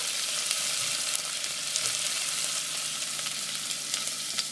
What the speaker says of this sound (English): And we're going to give that a stir and just let it simmer.